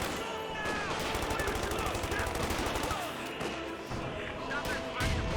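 Video game battle in Company of Heroes 2: a frag grenade bursts amid dense, rapid machine-gun and rifle fire, crackling continuously at close range under a talking voice.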